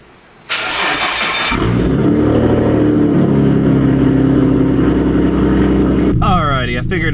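A 600 hp Nissan R32 GTR engine cranks and fires up, then settles into a loud, rumbling idle with a brief rev near the end.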